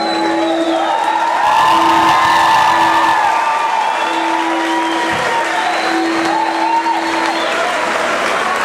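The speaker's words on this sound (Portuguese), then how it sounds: "Uma salva de palmas para os voluntários." An audience at a live concert applauds volunteers, dense continuous clapping with scattered whoops and cheers, loud and sustained with a steady tone running underneath.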